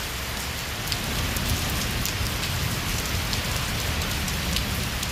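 Steady torrential rain pours down in Islamabad, a dense continuous hiss with scattered drops pattering close by, no voices.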